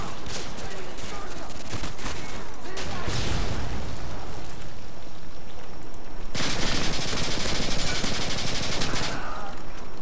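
Rapid bursts of video game gunfire from Modern Warfare 2 crackle loudly and continuously, with dense automatic fire and sharp sniper shots overlapping throughout.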